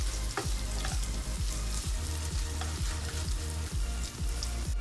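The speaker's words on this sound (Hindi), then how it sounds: "2 मीडियम साइज के प्याज हमने काट के रखे हुए हैं, उन्हें हम डालेंगे इसमें और स्लो मीडियम फ्लेम पर इसे धीरे धीरे पकाएंगे" Two chopped medium onions fry slowly over a medium flame in a pan, giving a steady close sizzle with regular scraping stirs every half second or so.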